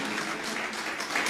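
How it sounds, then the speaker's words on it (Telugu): An audience at a Christian board meeting applauds to glorify God, a dense, continuous wash of clapping heard from some distance for a brief moment. "చప్పట్లు కూడా దేవుని మహిమపడతాం"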